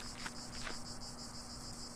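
Crickets chirp in a steady, dense, high trill on the night-time grounds of the horror adventure game The Last Door, a constant even chorus with no talking.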